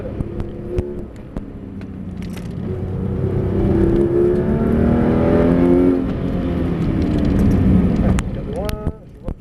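A Porsche 911 GT3 RS of the 991 generation accelerates hard out of a corner on the Clastres circuit, its engine note climbing steadily and loud throughout, with a voice talking over it.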